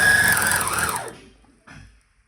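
A sewing machine stitching a sack whirs loud and close for about a second, its motor whine falling as it slows and stops, followed by a faint brief mechanical rustle.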